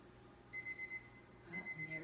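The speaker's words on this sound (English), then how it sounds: "And there's our timer." A kitchen timer beeps in two short bursts of rapid electronic chirps, clear and close against a quiet kitchen background.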